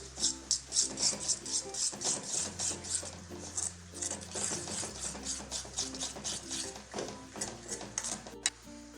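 Barbecue sauce with Kashmiri chili powder being mixed in a bowl, heard as a steady run of rhythmic rubbing and scraping strokes, close and moderately loud, with no talking.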